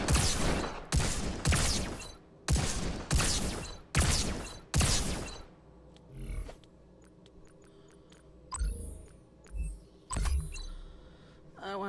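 Revolver gunfire in a robot-recall video game cracks out in a rapid string of about six loud shots, followed by scattered quieter clicks and game effects.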